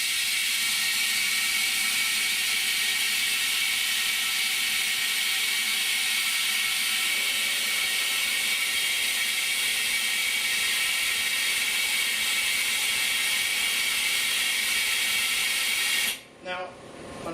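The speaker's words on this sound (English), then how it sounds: "I put the vacuum on so it holds it while I'm wiping it. It's going to be very loud" A vacuum pump on an OCA and polarizer laminating machine runs loudly and steadily with a constant high whine and hum, cutting off abruptly near the end.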